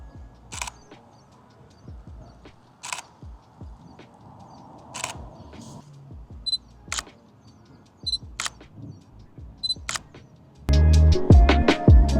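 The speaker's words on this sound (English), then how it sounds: "I actually like how the shutter sounds on the Nikon more than I do the Sony." Nikon Z fc shutter firing as single crisp clicks spaced a second or two apart over a quiet background, until a louder burst of noise breaks in near the end.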